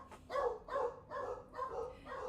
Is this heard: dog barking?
yes